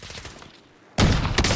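Gunfire in a first-person shooter video game: a quiet stretch, then a sudden loud burst of rapid shots that carries on to the end.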